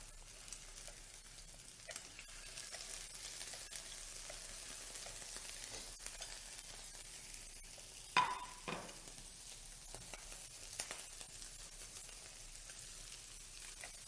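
Prawns and squid frying in a pan for fideuá, a faint steady sizzle with occasional light stirring taps and one brief louder scrape, no talk.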